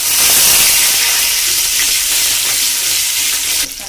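Three pieces of green chilli hit hot oil with cumin seeds in a pan, producing a loud, steady hissing sizzle that eases slightly before a sharp clatter near the end.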